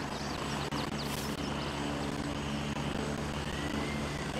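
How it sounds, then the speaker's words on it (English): Helicopter in the military shooter Gray Zone Warfare, a steady loud rotor and engine drone running unbroken throughout with a brief whine swell near the start, no talking. "Chopper just landed."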